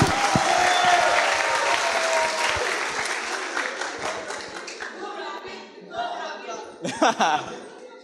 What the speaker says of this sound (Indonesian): Teman-temannya boleh tepuk tangan lagi dong.